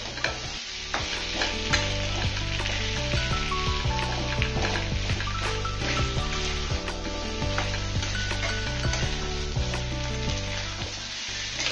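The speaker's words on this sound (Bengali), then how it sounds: "আলুর সাথে বাদামটা একটু ভাজা ভাজা হয়ে এলে" Potatoes and peanuts fry together in a pan with a steady, dense sizzle, under frequent scraping and stirring clatter throughout, with no voices.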